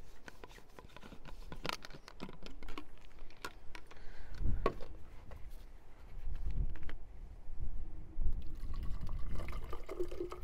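Water pours and splashes into a LifeStraw filter bottle, uneven gurgling fill with scrapes and handling noises, close and fairly quiet.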